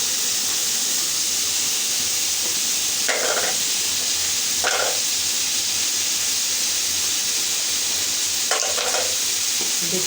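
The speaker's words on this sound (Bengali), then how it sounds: "পেঁয়াজটা একটু ভালো করে একটু ভাজবো।" Onion frying in a little oil in a pan, a steady bright sizzle throughout, broken by three short scraping stirs.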